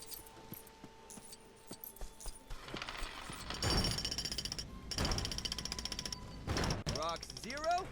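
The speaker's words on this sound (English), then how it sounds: "Get ourselves another jackhammer." In the Lego Jurassic World video game, a jackhammer digs into dirt, making loud rattling mechanical bursts that come and go alongside other clanking game effects.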